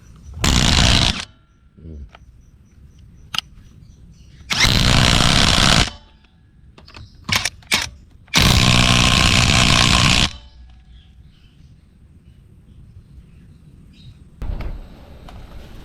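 Bosch GDX 18V 285 brushless cordless impact driver in ABR mode driving a fastener, three loud hammering bursts of one to two seconds each, the last longest, separated by quiet gaps with a few clicks.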